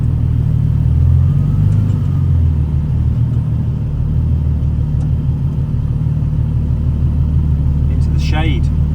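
TVR T350c with a 4.5-litre Supersport engine driving along a road, a steady deep rumble with low engine drone close by and no talk over it, a brief high-pitched squeak near the end.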